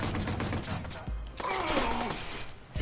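Gunfire in the video game Watch Dogs, bursts of close, loud shots mixed with mechanical clatter, broken by a brief lull and then a dense second volley.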